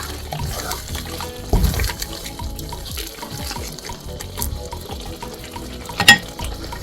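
A cassava leaf stew is stirred in a pot, with wet, sloshy scraping strokes repeating unevenly over a low bubbling background and a sharper clink near the end.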